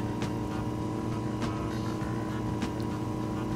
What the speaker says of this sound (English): I really like the engine sound of this car